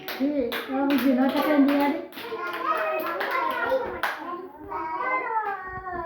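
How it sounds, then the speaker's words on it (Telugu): Young children in an anganwadi preschool clap together for a classmate, a quick burst of many small hands over lively kids' voices, fading as an adult starts speaking. "క్లాప్స్ కొట్టండి తనుశ్రీకి."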